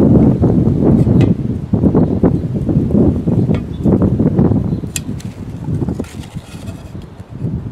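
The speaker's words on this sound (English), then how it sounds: "Oh, wind! A lot of wind. Not great." Strong outdoor wind buffets an open microphone beside a pool pump, a loud continuous low rumble with gusty surges and dips and no clear voice over it.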